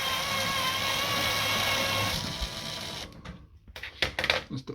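A power tool drives the last screw into the panel of a Bosch Classixx 6 washing machine, whirring steadily up close for about two seconds, then stopping, followed by scattered handling clatter and taps.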